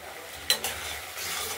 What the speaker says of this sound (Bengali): চোখলাটা নাড়া হচ্ছে কড়াইতে, একদম মাখা মাখা হবে।